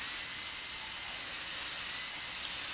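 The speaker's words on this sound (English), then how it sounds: "Using just the tip of the burr initially, and I see some decalcification in the enamel." High whining dental drill burr running during minimally invasive fissure exploration of a tooth with suspected enamel and dentin caries, a steady close hiss with a thin tonal whistle throughout.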